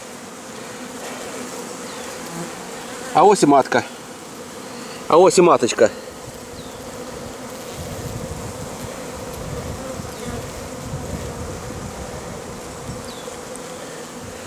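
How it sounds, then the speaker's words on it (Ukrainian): Close, continuous buzzing of many honeybees on a hive frame at a forest apiary, with two short bursts of speech breaking in over the droning. "Та ну дивіться, тільки бджоли."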